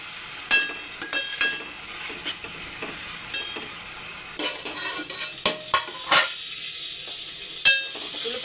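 Onions frying in a pan with salt and a pinch of turmeric, a steady bright sizzle broken by sharp scraping and clinking stirs throughout, close and fairly loud with no talking.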